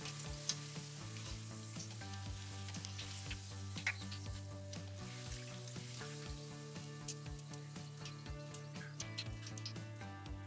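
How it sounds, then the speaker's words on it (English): Yukon Gold potato chips frying in hot oil give a steady, dense sizzle with scattered crackles throughout, close and continuous beneath a low sustained tonal hum. "Let's go ahead and fry our Yukon Gold potato chips"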